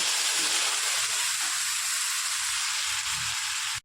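Loud, continuous hissing sizzle as a little water hits a hot pan of chopped chapati, holding steady before cutting off abruptly.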